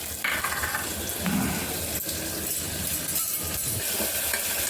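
Onion and curry leaves fry in a pan with salt for masale bhat, a steady close sizzle with occasional stirring scrapes, continuous and moderately loud, with no talking.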